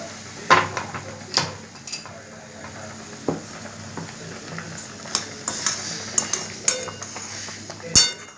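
Semolina halwa made with ghee cooking in a pan, stirred with a utensil that scrapes and clinks against the metal in an irregular rhythm over a low sizzle, close by, with no talking.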